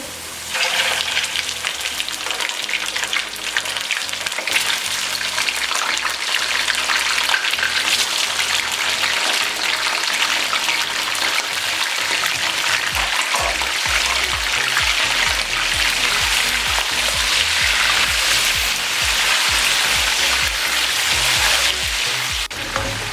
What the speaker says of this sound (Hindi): चिकन ऐड करेंगे, उसको 5 से 7 मिनट के लिए बहुत अच्छे से फ्राई कर लेंगे